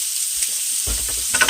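Garlic and mustard fry in a pan, with a soft steady sizzle that grows busier partway through as stirring or scraping joins in, close up and with no talking.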